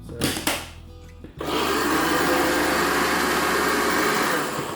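After a few clicks and rattles, a blender starts with a loud, steady whirring roar that runs continuously at close range, blending lemon juice for coriander and mint chutney.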